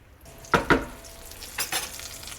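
A breaded schnitzel goes into shimmering hot oil in a pan, two sharp splashy hits followed by a steady crackling sizzle with a couple of brief scraping stirs, close and clear.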